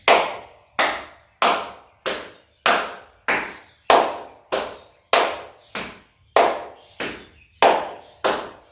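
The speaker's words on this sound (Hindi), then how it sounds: "आगे और पीछे दोनों तरफ ताली बजाना है।" Hands clap sharply and steadily during a yoga clapping exercise, striking in front and behind, about thirteen loud, even claps with a slight echo and no talking.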